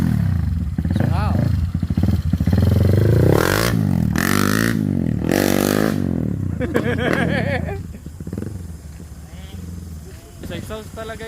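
A Honda CRF 150L four-valve motorcycle is revved hard, its exhaust rising and falling through several sharp throttle sweeps in the middle before settling to a rougher idle. Voices can be heard around the bike.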